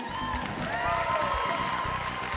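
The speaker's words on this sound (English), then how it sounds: "Give him a round of applause." A church congregation applauds a man called to the stage, a steady, dense patter of many hands clapping with some cheering mixed in, continuous throughout.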